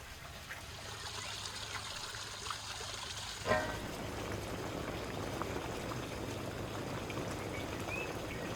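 A pot of ajapsandali, a vegetable stew, simmering on the stove: soft steady bubbling and gentle liquid burbling, faint and continuous, with a brief clatter partway through as the pot is checked.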